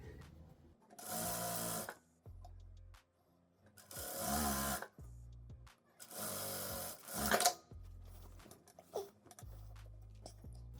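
A sewing machine stitching two layers of fabric along a dress hem, running in steady whirring bursts of a couple of seconds each, separated by pauses and soft handling sounds.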